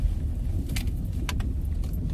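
A car rolls slowly into a parking spot, its low engine rumble and road noise steady throughout, with a few brief light rattles like jangling keys and no one speaking.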